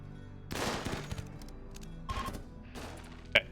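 Explosive bursts from a grenade launcher in a video game raid: a heavy blast around the middle, later thuds and a sharp bright impact near the end, all over quiet game ambience.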